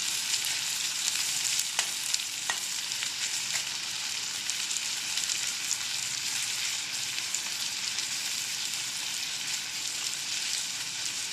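Finely sliced potatoes and onions sizzle in hot golden oil while being stirred, a steady loud crackling fry with a couple of faint utensil clinks early on.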